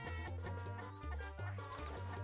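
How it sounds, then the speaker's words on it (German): In a Mario Party 3 minigame, a video game chicken clucks in quick repeated bursts over bright game music, close and clear with no talking. "Ja, da ist ein Huhn."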